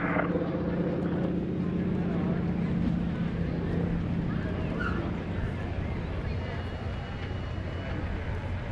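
A propeller aircraft engine at the NAS Oceana airshow drones loudly with a low, throbbing rumble that gradually fades slightly as it passes.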